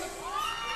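A crowd of fans at a Puebla anniversary concert shouts and cheers in one loud, sustained swell of voices lasting under a second, with no single speaker standing out.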